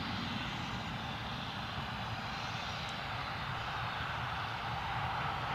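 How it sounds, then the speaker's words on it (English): A Ryanair jet lines up for an Alicante departure at Newcastle Airport, its engines giving a steady, broad roar that stays constant throughout with no talking. "Ryanair are lining up now for their Alicante departure"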